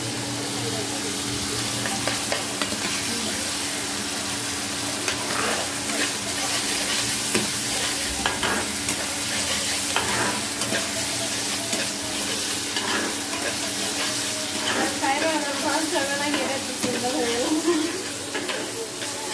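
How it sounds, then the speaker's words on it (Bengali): Onions being stirred and mashed down into a gravy in a frying pan, a continuous close sizzle and hiss with repeated scraping and stirring strokes. "পেঁয়াজগুলো একটু সুন্দরভাবে ভেঙে নিব, একদম গ্রেভি করে নেবো। গ্রেভি হবে।"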